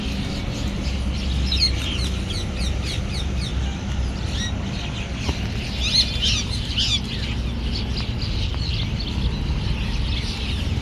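A flock of pigeons and other birds being fed grain chirping and calling busily outdoors in Abiyana over a steady, noisy background, with occasional wing flutters.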